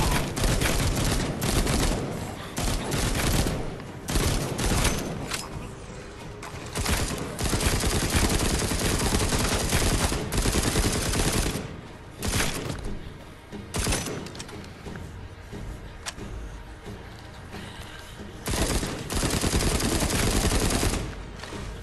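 Heavy gunfire in The Walking Dead Onslaught VR game, including shotgun blasts, dense and loud for most of the stretch and easing briefly near the end, with no speech.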